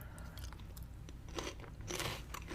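Close, crisp crunching and chewing of Buc-ee's double cheese Cheesy Curls, irregular bites and crackles in the mouth with no talk over them.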